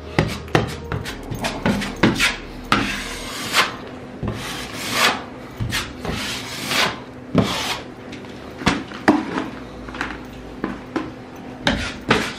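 Hand sanding over a wall patched with cornice cement, a run of short scraping, rasping strokes with a few knocks, close and fairly steady, with no talk.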